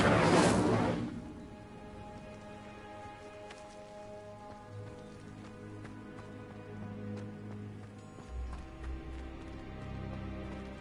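Incendio fire spell in Hogwarts Legacy bursts out at the start as a loud, short whooshing blast of flame, then fades into a quieter game ambience with soft tonal music and light ticking effects.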